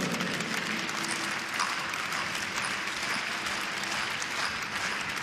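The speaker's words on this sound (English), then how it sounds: "Come on, everybody, clap your hands" A gymnastics arena crowd at the European Artistic Gymnastics Championships claps in a continuous wash of applause, steady and fairly loud throughout with no clear voices on top.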